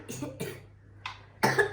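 A child coughs several times at close range, with harsh separate bursts and short quiet gaps between them, ending in a louder, rougher cough.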